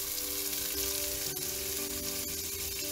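Butter melting in a pot for macaroni and cheese sizzles and crackles steadily at close range. The broadband frying hiss holds constant throughout, with no talking.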